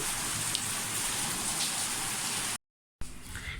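Steady heavy rain water pours from a gutter, hissing and splashing continuously nearby, broken by a brief moment of silence before the downpour resumes.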